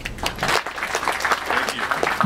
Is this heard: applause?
yes